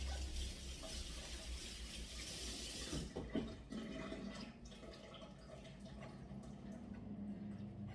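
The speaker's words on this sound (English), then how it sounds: "Wash my hands." Tap water runs steadily over hands at a kitchen sink while cooking cheesy bacon macaroni, a broad close splashing wash for about three seconds that then cuts off, leaving quieter handling noises and faint drips.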